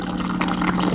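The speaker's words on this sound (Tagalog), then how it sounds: "press down nyo para, yan yung mainit na tubig" Hot water pours from a Dolphin DBL40 bottom-loading water dispenser in a steady, moderately loud stream with a faint underlying hum, no talking over it.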